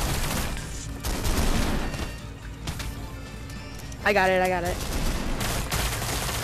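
Sharp, repeated gunshots from the video game Espire 2 crack out in bursts amid game noise, with a voice speaking briefly over the firing.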